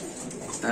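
A short burst of Lahori pigeon cooing, close and clear, with a soft, rounded call rising toward the end.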